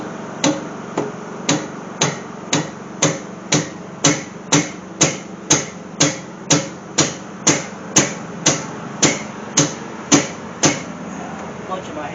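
A hammer bangs repeatedly on a compressed engine valve spring retainer to break the valve free, about twenty sharp, evenly spaced metallic strikes close to the microphone in steady rhythm.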